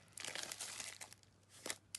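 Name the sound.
opening a new plastic package of envelopes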